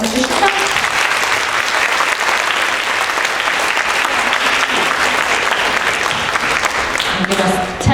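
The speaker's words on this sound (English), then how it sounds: "Give us one more round of applause for Ishika" Sustained, dense audience applause at a school concert, steady and loud throughout, with a few voices and cheers mixed into the clapping crowd.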